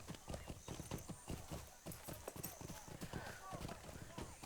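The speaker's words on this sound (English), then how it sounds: "I'll bring out my regular steed for this" Rhythmic clip-clop of a horse's hooves as a regular steed is ridden through Snowbourne in the Lord of the Rings Online-style game, steady and close, with a brief whinny and a voice talking over it.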